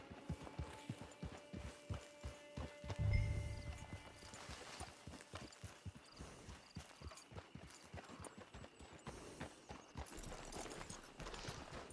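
Horse hooves clip-clop at a steady walking rhythm throughout in the Red Dead Online game, with a brief heavier thump near the start and game ambience around them.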